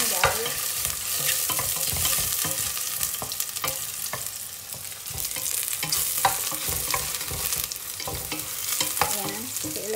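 Ginger and mushrooms sauté in a hot pan for arroz caldo, a continuous close sizzle broken by frequent scraping and clacking strokes of a stirring utensil.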